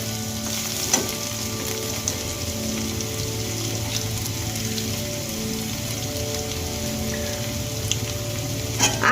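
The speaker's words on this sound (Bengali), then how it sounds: "আদাটা একটু ভালো করে ভেজে নেব।" Ginger frying in oil in a pan for a dahi bhindi dish: a dense, even sizzle crackles throughout, close and steady, with a few sharper pops and stirring scrapes and no talk.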